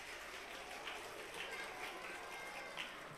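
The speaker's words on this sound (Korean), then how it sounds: "박수로 환영해 주시면 좋겠습니다." Church congregation applauding to welcome a five-year-old child forward during a Sunday morning service, a steady, fairly faint wash of clapping filling the room with no clear talk over it.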